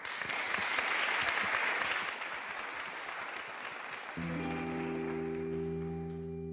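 Audience applause for a singer on a TV5MONDE music programme, a dense, loud wash of clapping that eases after a couple of seconds and gives way to steady sustained instrumental chords.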